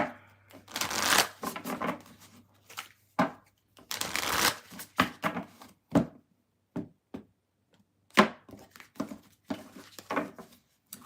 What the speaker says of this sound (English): I don't need to write the time yet because I have to shuffle.